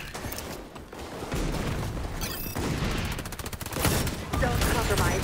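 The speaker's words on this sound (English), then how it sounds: "Throwing sticky grenade." A sticky grenade thrown and detonating in the shooter XDefiant, heard amid a busy firefight of rapid gunfire, booms and clatter that stays loud and continuous throughout.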